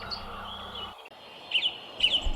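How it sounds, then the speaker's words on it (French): A common nightingale sings in short, bright whistled phrases, two distinct bursts after a brief pause, fairly near over a quiet background. "le chant du rossignol"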